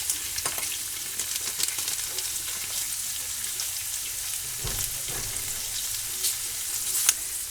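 Spices and dried chili sizzle steadily in a hot frying pan, a close, continuous crackling hiss broken by a few sharper pops and stirring scrapes.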